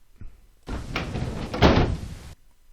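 A train door in a Minecraft mod flips open with a brief clunk and rattling latch, a short, fairly close burst lasting under two seconds before quiet returns.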